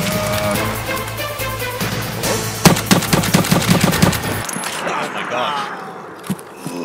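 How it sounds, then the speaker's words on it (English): Gunfire from another player in Escape from Tarkov, a rapid loud burst of automatic shots over a couple of seconds amid frantic talking, followed by quieter footsteps and movement. "He's f***ing shooting at us."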